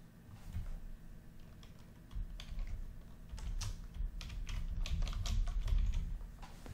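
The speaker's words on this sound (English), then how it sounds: "And then hit Enter on your keyboard." Typing on a computer keyboard, a quiet close run of irregular key clicks that grows denser and slightly louder, with no talk.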